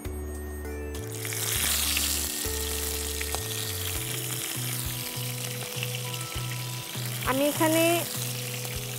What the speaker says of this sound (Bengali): এখন আমরা চিংড়িগুলো জাস্ট হালকা একটা ভাজা দিয়ে নেব।